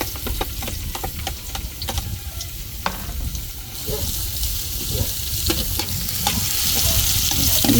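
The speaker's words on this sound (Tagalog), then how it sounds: "Siyempre, sunod natin itong ating ano, sibuyas. Sabay na natin ating bawang para sumabay na sa pagluto." Onion and garlic fry together in hot oil, a loud, dense sizzle close by with repeated sharp scrapes and taps of a utensil stirring the pan, growing slightly louder toward the end.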